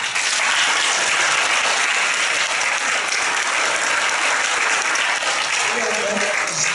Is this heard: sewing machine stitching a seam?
no